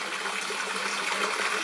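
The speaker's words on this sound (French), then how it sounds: "on voit la cascade d'eau là qui permet d'aérer en même temps au niveau de l'oxygène dissous dans l'eau" Water cascades continuously into an industrial 1000-litre tank converted into a holding tank, aerating it with a steady, loud splashing rush, close by and without talk.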